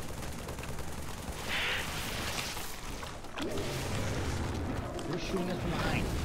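Gunfire in the Halo 3 finale, with a dense wash of weapon fire and explosions across the whole span, loud and continuous, under sci-fi effects and a sustained rumble.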